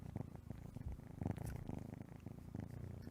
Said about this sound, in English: You guys are purring like a maniac.